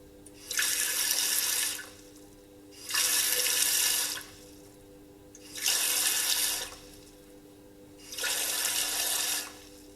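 Water pumped through a pipe pours into a tub in four separate bursts, each gushing steadily for about two seconds before cutting off, with quiet pauses and a faint hum between.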